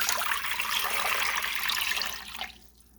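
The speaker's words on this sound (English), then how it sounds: "I've got some tap water here, and I'll just pour it in." Tap water pours steadily into a container for a stovetop scent pot, a close, continuous splashing rush that tapers off and stops near the end.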